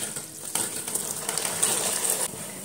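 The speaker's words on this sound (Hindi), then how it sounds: "अब मैं इसमें चावल शामिल करूंगी।" Rice added to hot oil in a pan while cooking sweet zarda rice, a steady, fairly quiet sizzling hiss that continues for the whole moment, with a few faint stirring scrapes.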